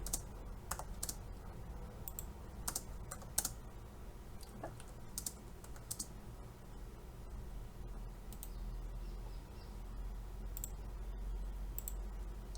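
Computer keyboard typed on while entering AutoCAD commands, with scattered quick key clicks and taps in irregular bursts, close and quiet against faint room hum.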